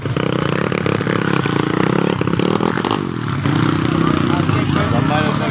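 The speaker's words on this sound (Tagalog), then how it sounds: "nasiraan ang motor si AJ Perez" A motorcycle engine that has broken down mid-race in a local road race chugs and clatters unevenly up close, loud and rough, with excited voices talking over it.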